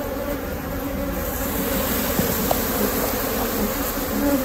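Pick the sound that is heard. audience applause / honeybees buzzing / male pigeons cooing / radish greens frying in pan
honeybees buzzing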